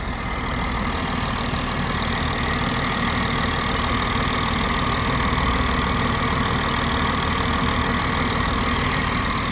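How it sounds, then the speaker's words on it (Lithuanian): An Audi Q7 engine idles steadily with the hood open, a constant close mechanical hum and fine ticking that holds even throughout, with no voices. "Varikliukas dirba gražiai."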